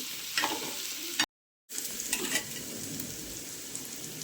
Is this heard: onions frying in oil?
yes